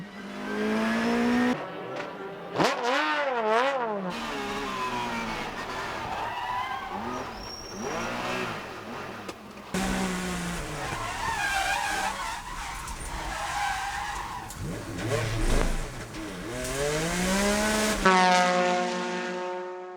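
JGTC 2000 race cars, including an RX7 and MR-S cars, race side by side with screaming engines rising and falling through gear changes, tire squeal and a passing roar, heard steadily and up close throughout.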